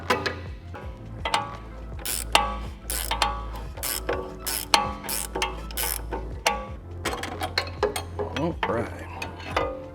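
Ratchet wrench working the sway bar end link bolts on an Audi B9 front suspension. It makes quick bursts of ratcheting clicks and clatter, close and busy, and a voice speaks briefly.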